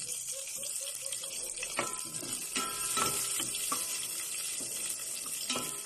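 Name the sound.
onion added to pot, sizzling, for chicken tinola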